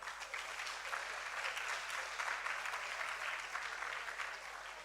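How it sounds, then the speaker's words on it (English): Steady applause from an audience at an inter-school debate on ECOWAS regional integration, a dense wash of clapping that holds evenly at moderate level for the whole stretch without any voices. "Let's clap for her until she sits down."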